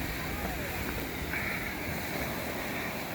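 Ocean waves wash against the rocks at a beach front near Montauk Lighthouse, a continuous loud broadband roar with heavy wind buffeting the microphone and no clear talking.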